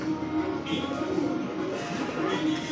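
Racer pigeons coo, with a male's deep rolling call running steadily through the moment, close and continuous, and a busy pigeon market murmuring behind it.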